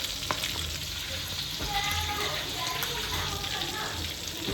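Pomfret fish frying in a pan, a steady close sizzle running through the clip with clatter and faint background voices.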